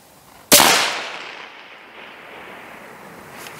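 A single sharp rifle shot cracks outdoors during a winter snowshoe shooting outing, followed by a long fading echo rolling away across open ground, with no talk.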